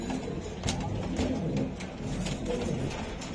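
White Dragon pigeons coo repeatedly in soft, low throaty bursts, fairly close, over a steady background murmur of other birds.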